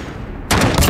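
A sudden loud burst of rapid gunfire from an Apex or Call of Duty shooter erupts after a quiet moment and rattles on in a dense close volley.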